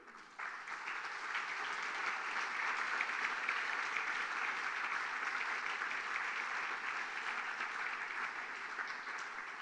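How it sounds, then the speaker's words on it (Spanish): Church congregation applauding during a Spanish-language sermon, a steady, even wash of many hands clapping that holds at the same level for nearly ten seconds, moderately distant, with no talking over it. "Vamos a darle un aplauso al rey."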